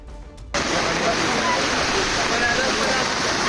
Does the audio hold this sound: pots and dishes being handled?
no